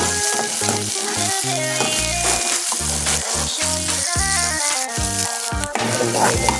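Garlic and onion sauté in a pan for a Filipino squash-and-shrimp stew, a loud, continuous sizzle with stirring scrapes, while music with a strong rhythmic beat plays over it.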